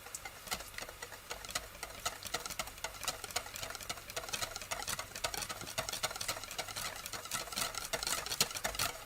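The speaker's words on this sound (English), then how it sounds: "we're going to whisk this all together" Yogurt, corn flour, egg and salt whisked together in a bowl, a steady run of quick rhythmic clicks and taps at close range, with no talking.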